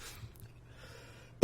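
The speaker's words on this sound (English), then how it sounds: "That was unexpected cough." A single sudden, loud cough bursts out at the very end after near silence, close to the microphone.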